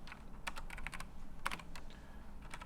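Quick bursts of keystrokes on a computer keyboard during a programming session, clicking in irregular clusters at close range with quiet pauses between.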